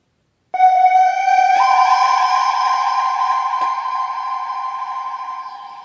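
A single processed synth tone starts abruptly and sustains, ringing with a shimmering, reverberant quality as it slowly fades away.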